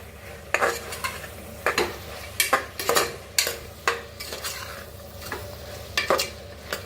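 Masala of turmeric, chilli powder and coriander powder with chilli seeds being stirred and roasted in a pan, a spoon scraping in irregular strokes over a soft, steady sizzle, close and with no talking.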